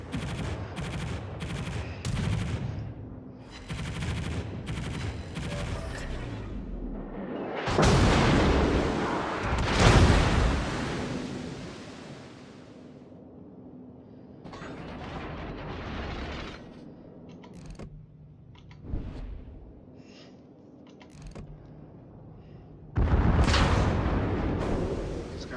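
Naval guns fire in World of Warships, sending out rapid bursts of booming salvos followed by heavy shell explosions and rumbling, with loud blasts near the start, in the middle and again near the end.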